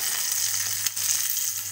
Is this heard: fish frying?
yes